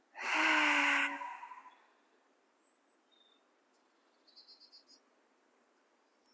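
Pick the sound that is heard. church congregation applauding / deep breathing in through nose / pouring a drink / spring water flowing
deep breathing in through nose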